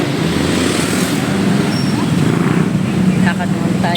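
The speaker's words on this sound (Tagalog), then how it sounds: "Ang ingay ng mga sasakyan." Steady street traffic noise from passing cars, motorcycles and trucks on a road near a market, a continuous loud roar close by with a brief air-brake hiss near the end.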